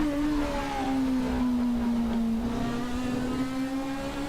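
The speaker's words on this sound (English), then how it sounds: "And it's a turbo engine" A turbocharged race car engine in a racing simulator holds a steady, loud droning note that dips slightly and then rises again, continuous throughout with no talk.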